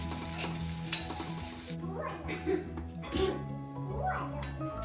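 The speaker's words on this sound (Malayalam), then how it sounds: "ഇനി ഇത് ഒന്ന് ഇളക്കി കൊടുക്കാം" Bitter gourd thoran with grated coconut being stirred in a pan, with soft scraping strokes and a light sizzle; a voice talks over part of it.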